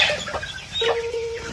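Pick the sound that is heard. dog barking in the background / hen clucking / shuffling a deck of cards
hen clucking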